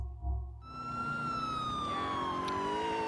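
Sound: police car siren in the video game GTA IV

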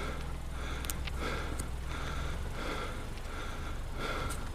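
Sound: heavy panting breath in horror animation

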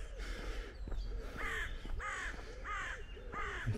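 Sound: birds outdoors, crows cawing

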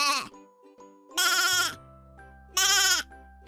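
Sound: sheep bleating

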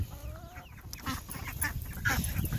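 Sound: chickens

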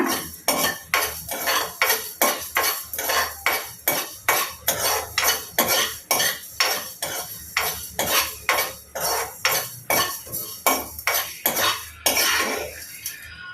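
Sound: dry roasting spices with fenugreek in a pan

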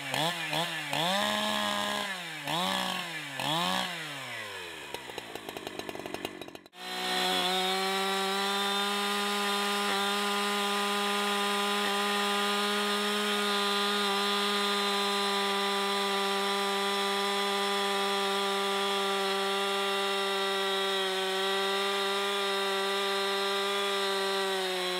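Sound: Husqvarna G372 XP chainsaw cutting into the ground to dull chain

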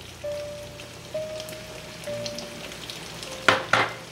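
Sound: chopped onion frying in pan with pork chops

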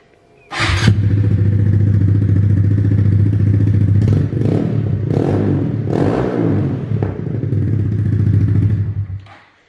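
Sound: Honda Grom motorcycle with cheap aftermarket exhaust running

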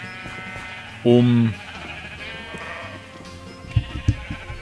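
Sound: sheep bleating in Minecraft video game

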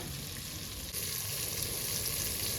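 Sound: spices and cumin frying in hot oil

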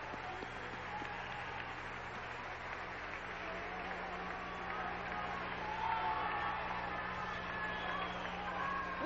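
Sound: audience applause for the judges at Miss Universe 1992

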